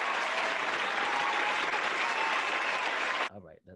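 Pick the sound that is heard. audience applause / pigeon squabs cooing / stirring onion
audience applause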